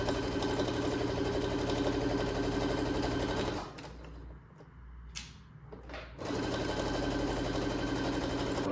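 A sewing machine stitching quilted skirt fabric runs with a steady, fast mechanical whir, stops for a couple of seconds with a few light clicks, then resumes at the same even pace.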